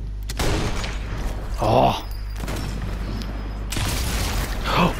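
Two heavy Mosin Nagant rifle shots in a video game, each a loud booming crack with a short tail, set apart by a few seconds, with a brief exclamation from a voice.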